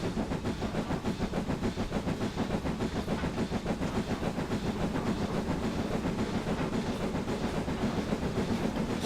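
A BR 9F steam locomotive in a train simulator game runs on Scottish western lines with a steady rhythmic chuffing and hiss, a dense continuous roar with a regular pulsing beat throughout.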